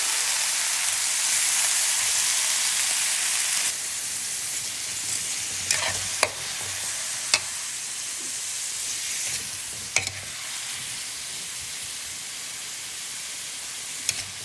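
Meat frying in a pan gives a loud, continuous sizzle that dominates the first few seconds, then settles lower, broken by several sharp stirring scrapes and clinks of a utensil against the pan.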